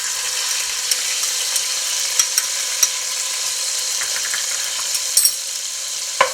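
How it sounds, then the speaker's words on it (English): Four cloves of minced garlic fry in a pan for pasta with peas, giving a steady bright sizzle with scattered small pops and clicks, fairly close and unaccompanied by speech. "Now I'm going to add 4 cloves of minced garlic"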